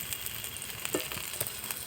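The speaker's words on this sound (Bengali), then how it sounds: "বেগুনটা আমার হয়ে গেছে ভাজা" Round eggplant slices frying in hot oil give a soft, continuous sizzle with scattered small pops and crackles, fairly close and steady with no talking.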